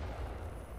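Gunfire in the Titanfall 2 video game, a dense, sustained low rumble of shots and blasts filling the short moment at steady loudness with no talk.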